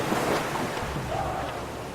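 Water runs steadily down stepped ledges in the video game Brothers, a continuous rushing wash like surf that stays even in level throughout.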